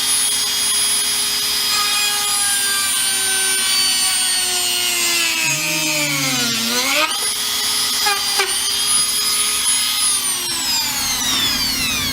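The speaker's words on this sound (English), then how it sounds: "Got my hole drilled, nice and charred" A power drill boring a hole through Polly Plastics moldable plastic, a steady high-pitched whine that sags and climbs in pitch as the bit bites and frees up, running continuously for about twelve seconds.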